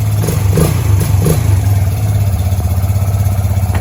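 A Yamaha YBR125 motorcycle fitted with its standard exhaust idles nearby, giving a steady low thrum with a light mechanical clatter and a couple of small blips early on, with no voices present.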